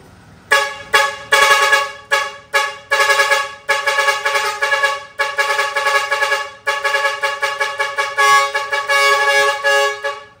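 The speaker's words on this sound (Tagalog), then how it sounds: "Isa pa nga pre, yung air horn natin." Loud vehicle air horn blasting in a series of bright, sustained tooting notes, some short and clipped, others long, following one another quickly with brief gaps between them.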